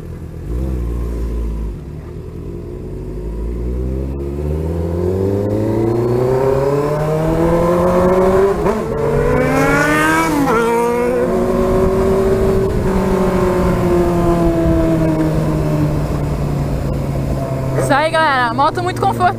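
A Honda CBR600F motorcycle's exhaust roaring loudly while being ridden on a straight road, the pitch climbing and sweeping through the revs, close and continuous, with a rider's voice briefly over it.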